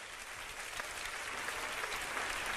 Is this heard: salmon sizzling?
no